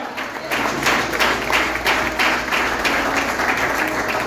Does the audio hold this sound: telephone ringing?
no